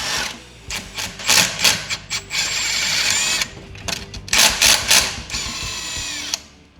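Power tool or impact driver removing bolts from a car's transmission oil cooler, loud close whirring bursts of a few seconds each, starting and stopping repeatedly with short gaps between.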